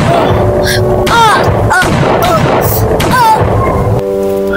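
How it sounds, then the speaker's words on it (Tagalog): Heavy, booming shots crack out amid dense, loud noise, with a few sharp reports and whistling tones rather than one clean gunshot. "Narinig mo ba yung putok ng baril na yun?"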